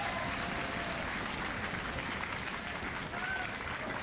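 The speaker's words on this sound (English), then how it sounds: "Got a crowd who is ready to go, that's for sure." A studio crowd at an LCS League of Legends esports match applauds and cheers, a steady wash of clapping that fills the short stretch, fairly quiet and distant.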